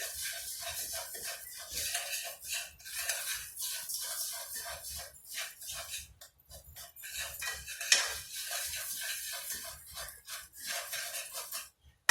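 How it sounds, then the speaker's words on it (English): A utensil stirs vermicelli in a pot on the stove, giving soft, continuous scraping and clinking with scattered small knocks, fairly quiet and close, with no one speaking. "So now, still stirring up the vermicelli."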